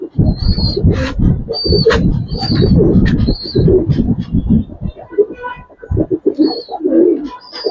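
Afsan Bagha pigeons cooing in a loft, repeated soft throaty coos and rustling close by, with brief high chirps above and a voice occasionally under them.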